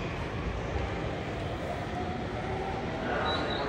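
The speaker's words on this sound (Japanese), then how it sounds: "まもなく6番線に当駅始発特急成田エクスプレス39号成田空港行きが参ります。" A Narita Express limited express train approaches platform 6 at Ofuna station, a steady, even rumble of rolling stock throughout at moderate loudness.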